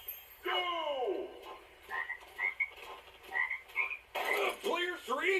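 Cartoonish frog croaks from the LEGO Party video game, a handful of short chirpy croaks spaced irregularly, with a busier burst of several croaks toward the end, fairly clear against quiet background.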